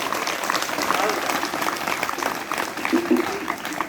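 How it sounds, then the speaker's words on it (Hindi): An audience applauds at a school Independence Day celebration, a wash of clapping that stays moderate and steady beneath a speaking voice. "तो तालियां बजनी चाहिए"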